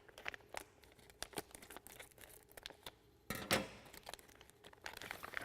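Scissors snip and cut open the plastic packaging of an Epson ink cartridge, giving a string of sharp crinkles, tears and clicks at close range, with one louder burst of crinkling partway through.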